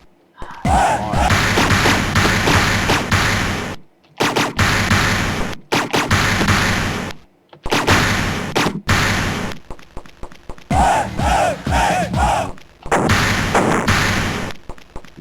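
In the shareware platform game Electroman, the gun fires in loud, close bursts of crackling blasts separated by short gaps over about fifteen seconds, with game sound effects alone and nobody talking.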